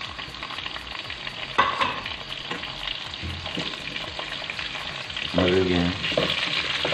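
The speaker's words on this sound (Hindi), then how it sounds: "इसको हल्के से फ्राई करनी है।" Chicken hot shots frying in a pan, a loud steady sizzle with occasional stirring scrapes, a person briefly speaking over it.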